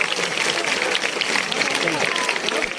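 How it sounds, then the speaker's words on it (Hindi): A village crowd in Nimbi, Mahendragarh gives vigorous applause at a welcome ceremony for a new IPS officer, a dense continuous clatter of many hands, with voices talking over it. "जोरदार तालियों के साथ तालियां बजती है।"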